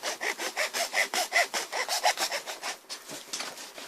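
Steady back-and-forth rasping of a hand saw cutting through a gas boiler pipe, about three strokes per second, close and loud, with no talking.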